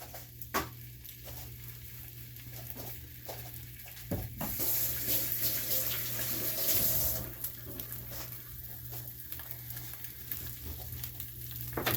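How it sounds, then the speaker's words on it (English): An egg fries in a greasy pan on high heat, a steady close sizzle with a louder watery burst in the middle. "we're going to fry up an egg. Okay. Get that on high heat."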